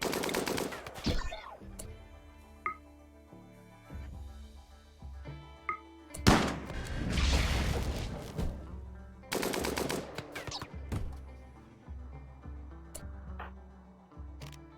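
Gunfire in an online video game: scattered sharp shots and rapid bursts ring out at varying distances, some close and loud, others softer, over a busy mix of game sounds and background music.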